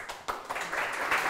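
Brief, uneven bursts of clapping from a small audience at a Global Game Jam venue, a few sharp claps close by that swell into a short patter of applause.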